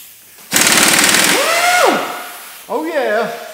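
Compressed air gun blasting out valve shim buckets from an engine's cylinder head: a sudden loud, harsh hissing burst lasting over a second and tapering off, then voices speaking briefly.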